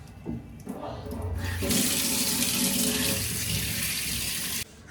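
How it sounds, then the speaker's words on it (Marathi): Pomfret fish being rinsed under a running kitchen tap, a steady close splash of water into the sink that starts softly and then gushes loudly for several seconds before cutting off. "पप्पा पापलेट आणलं. ते बस धुतो आणि घेतो."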